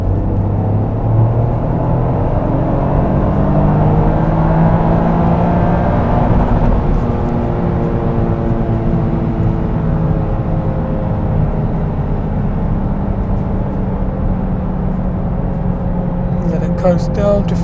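A Toyota GR Yaris fitted with an Eventuri intake runs on a dyno, its engine and turbo drone climbing steadily in pitch toward redline and then easing back down, loud and continuous throughout.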